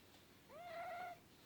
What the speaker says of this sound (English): Stormy the cat has come to say hello to us.